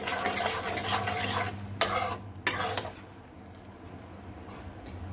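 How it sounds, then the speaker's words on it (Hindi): A spoon stirs and mixes ladoo ingredients with cardamom powder in a pan: steady scraping and soft sizzling up close, punctuated by two sharp metallic clinks, then quieter gentle bubbling. "और इसे भी अच्छे से मिक्स कर लें।"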